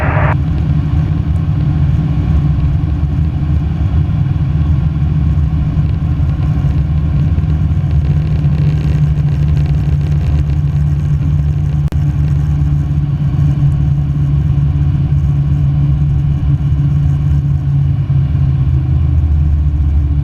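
A small training airplane's engine drones steadily during an introductory flight lesson as the plane slows on approach, a loud, continuous low rumble heard from inside the cabin with no speech.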